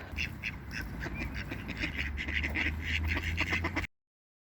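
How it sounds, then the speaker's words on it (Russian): Several ducks quack continuously at a moderate distance on the Pskova river in Pskov, a busy chorus of overlapping calls over faint low background noise. "Там вот речка Пскова, наверное. И на ней утки."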